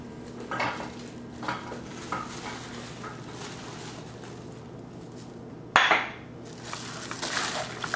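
Mung bean jelly being mixed by hand in a bowl with seasonings, giving soft repeated stirring and scraping sounds with light clinks of a utensil against the dish and one sharper knock near the end.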